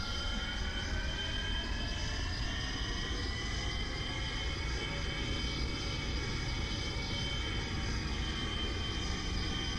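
A plane takes off in BeamNG.drive, a steady, loud engine drone with rising whining tones, sustained throughout and with no talk.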